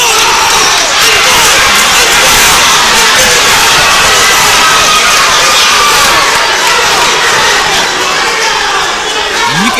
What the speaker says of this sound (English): you can hear the crowd going crazy for both fighters